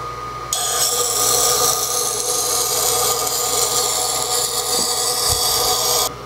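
A Tormek T-1 sharpener grinds a serrated kitchen knife, a steady high whirring and scraping hiss lasting about five and a half seconds, close and constant, starting and stopping abruptly.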